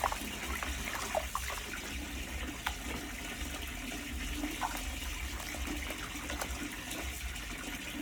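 Steady running water pours from a tap while a large snakehead fish is rinsed clean, a continuous close splashing flow that lasts throughout, with no talking.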